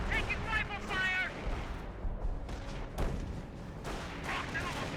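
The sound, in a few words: mortar fire in the video game Company of Heroes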